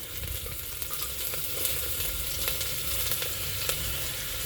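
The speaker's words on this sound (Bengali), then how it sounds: "রসুনের কুচি। রসুনগুলো ভাজা হচ্ছে" Chopped garlic frying in a pan, a dense, even sizzle close up with faint occasional crackles and light stirring, no voices.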